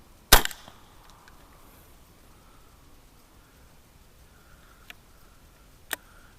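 A Ruger 10/22 rifle fires one sharp, loud shot after being submerged in water, followed by a quiet stretch and two fainter clicks or snaps later on.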